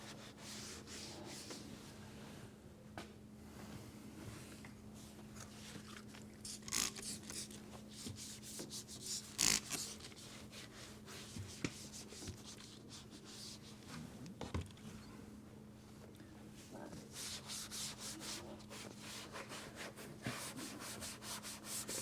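Aged black exterior plastic trim is scrubbed with a Scotch-Brite pad, giving soft, continuous abrasive rubbing with a few sharper scuffs, faint and close, over a low steady hum.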